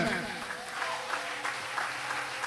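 A church congregation claps and cheers in a diffuse, continuous wash of applause, moderately loud, with voices mixed in.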